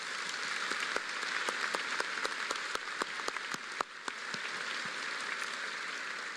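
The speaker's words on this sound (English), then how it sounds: "Let's give them all a round of applause." A graduation audience at Northwestern applauds in a large hall, a broad, steady wash of clapping dotted with sharper individual claps standing out near the front.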